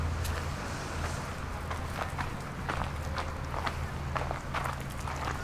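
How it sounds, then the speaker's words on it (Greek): Footsteps of people walking through a city street in Karditsa, Greece, a steady run of soft crunching steps over a constant low hum of street ambience, with no talk. "Βλέπαμε από εδώ να ακούγονται και τα βήματα."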